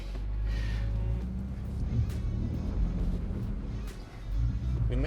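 Engine of a 2023 Ford Bronco Raptor rumbling off-road, a steady low drone that swells and dips with throttle over about five seconds, with faint voices in the cabin now and then.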